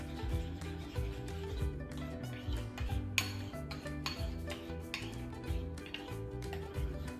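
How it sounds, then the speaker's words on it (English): Vanilla is stirred into beaten eggs in a bowl, giving repeated light clinks and taps of a utensil against the dish, close and moderately quiet, over a faint steady tonal background. "so I'm just going to stir this in."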